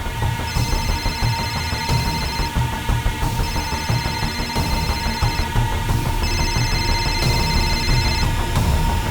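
A telephone rings in a house in repeated electronic bell bursts about a second apart, steady over a loud dramatic music bed, no voices heard.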